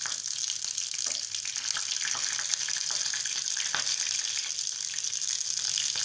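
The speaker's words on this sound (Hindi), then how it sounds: "हरी मिर्च को भी हाथ को बचा के डालना, क्योंकि हरी मिर्च बहुत जल्दी फूटने लगती है।" Green chilies sputter and crackle in hot tempering oil with mustard seeds, a steady close sizzle with sharp little pops scattered throughout.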